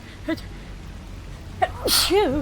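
A single sneeze in a stealth game, a short sharp burst heard close and loud, alongside brief vocal sounds from a person nearby.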